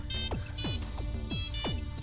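A mobile phone rings for an incoming call, a loud electronic ringtone of repeating gliding, chirping tones in a steady rhythm, with no voices.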